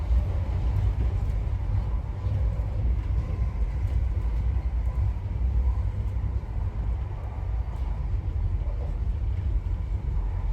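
Steady, loud rumble of a train at high speed heard from inside a Mark III coach, a continuous low roar with rail noise and faint rattles holding evenly throughout, no voices.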